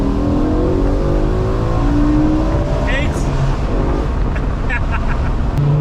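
BMW E60 M5 with the S85 V10 and a carbon plenum revs hard under throttle, a loud, continuous, rising engine roar inside the car with brief gear-change dips and faint talk underneath.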